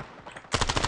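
Rapid automatic gunfire in the mobile shooter Standoff 2 bursts in loud and close for about half a second after a quieter lead-in.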